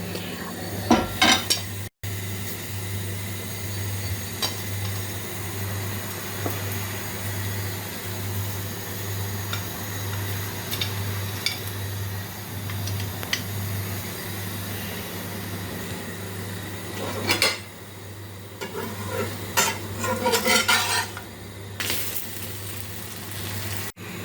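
Pancakes frying in a pan with oil, steady clinks of utensils and dishes over a low hum, a soft sizzle underneath, and louder scraping clatter near the end.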